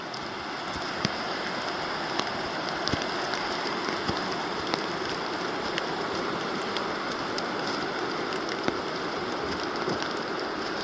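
Steady rain falls on a woodland trail, a dense even patter of drops with occasional sharper close splats, no voices.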